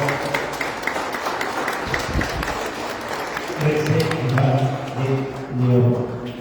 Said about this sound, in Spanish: Que se escuchen más fuertes esas palmas para el coro